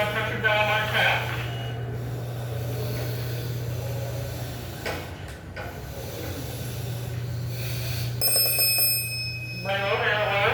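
A firefighter's breathing apparatus pack sounds its low air alarm during a fire academy drill: a steady low tone runs under bursts of shrill chirping and hissing air, with a voice talking partway through.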